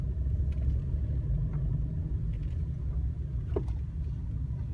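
Small cars on a street in Aabybro, Denmark roll past with a steady low road rumble and tyre noise, continuous and fairly close, with no voices.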